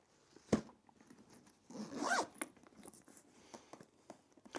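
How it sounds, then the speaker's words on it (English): Zippers on a Longride Doko motorcycle tank bag being pulled open and shut, a sharp near zip followed by a longer rasping run, then lighter fiddling sounds, close and fairly quiet with no talk. "The zips feel like good quality."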